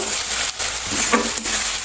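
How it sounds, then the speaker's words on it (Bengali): Ginger garlic paste sizzles in a hot pan with a steady hiss, broken by a few scraping stirs of a utensil, close up and fairly loud. "আদা রসুন বাটা দিয়ে ভালো করে ভেজে নেব"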